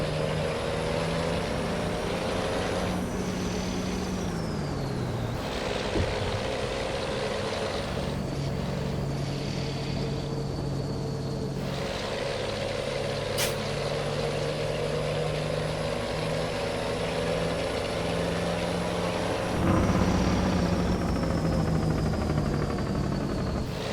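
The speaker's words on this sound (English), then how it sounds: "There's a little bit of engine and Jake sounds and a little bit of road noise from those tires" Freightliner FLB truck in American Truck Simulator cruising a highway, with a steady engine drone, a shifting lower tone suggesting Jake brake changes, and continuous tire road noise throughout, no talking.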